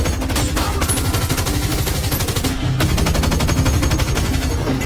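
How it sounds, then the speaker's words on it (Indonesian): Loud, rapid automatic gunfire from a mafia action movie shootout between robbers and a gunman, a sustained rattling stream of shots with only a brief pause midway. "Namun saat Hill sedang baku tembak dengan perampok lainnya, tiba-tiba Bull datang dan menembaki Hill."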